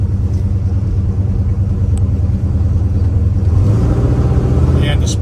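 A 1967 Chevrolet Chevelle V8 engine idles with a steady, deep low rumble, close by and continuous, with a voice speaking over it.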